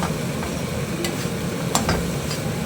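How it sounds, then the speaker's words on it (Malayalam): A spoon stirs grated coconut through a green peas curry in a hot pan, a soft scraping and low sizzle with a few sharper clinks of utensil on metal, close and alone. "തേങ്ങ ഇട്ടിട്ട് ഒന്ന് ഇളക്കി യോജിപ്പിക്കുക"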